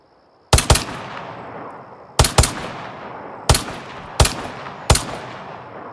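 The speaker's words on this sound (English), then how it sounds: "I am just gonna go for the Glock here." Glock pistol shots in a video game, five sharp loud reports spaced about a second apart, some doubled, each trailing into a ringing decay, with no talking.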